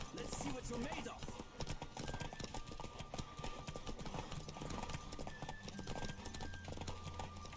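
Horse hooves clip-clop at a steady galloping rhythm through a Witcher 3 horse race, loud and continuous, mixed with game music and a talking voice over the top.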